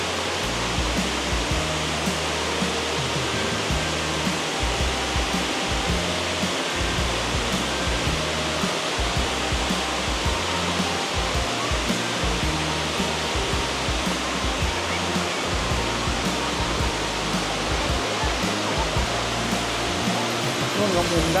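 Dai Chong Thong waterfall in Sangkhla Buri, Thailand, a steady, loud, broadband roar of falling water that stays unbroken throughout, heard close with no voices.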